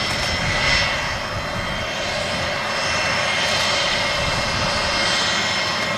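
An aircraft engine roars loudly and steadily at Manchester Airport, a broad constant rumble with a high whine on top, close and unbroken for several seconds.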